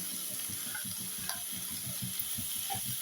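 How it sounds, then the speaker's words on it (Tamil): Crushed garlic sautés in a pan for a spicy Tamil crab curry, a steady close sizzle with a faint scrape of stirring and no talk over it. "அதையும் சேர்த்து நல்லா வதக்கிக்கிடலாம்."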